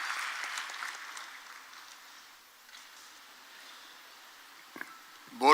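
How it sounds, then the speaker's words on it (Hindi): An indoor audience at a Bhopal government event claps to welcome Madhya Pradesh Chief Minister Shivraj Singh Chouhan, a faint, fairly distant patter of hands that fades to near quiet, then a brief louder knock at the end. "तालियों से स्वागत करेंगे हमारे प्रिय यशस्वी माननीय मुख्यमंत्री जी श्री शिवराज सिंह चौहान जी का"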